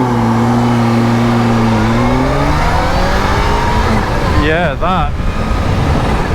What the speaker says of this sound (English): That's me pinning the throttle. There's hardly anything there on that low power mode.